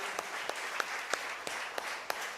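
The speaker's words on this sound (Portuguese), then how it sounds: "Dá mais uma forte salva de palmas ao nosso Senhor." A church congregation applauds steadily during a service, a dense wash of clapping with a few sharper single claps marking a regular beat.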